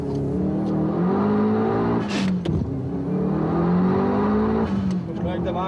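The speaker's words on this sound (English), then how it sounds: "let's accelerate the car from 0 to the top." A Subaru Impreza WRX STI engine revs hard and climbs steadily in pitch through the gears, loud and close, with a brief shift break partway.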